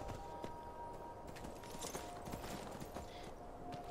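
Horse hooves clip-clopping in Skyrim, faint, steady and fairly quick steps over a low background hum, with no talking.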